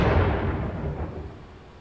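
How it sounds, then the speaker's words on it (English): Explosion effect from the political strategy game Democracy 3, a loud low boom at the start that rumbles and slowly decays across the clip, heard alone with no voices. "An explosion has just occurred in the middle of one of our country's largest shopping centers."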